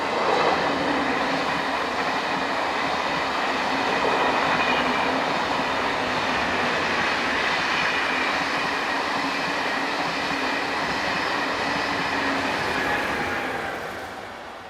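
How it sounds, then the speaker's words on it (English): A class 1116 electric locomotive hauling an evening passenger train from Vienna to Salzburg passes with a sustained loud roar and rumble of wheels, fading slightly at the end, with no voices. "1116273 comes into view as the last rays of the evening sun catch this, the 1756 from Vienne to Salzburg."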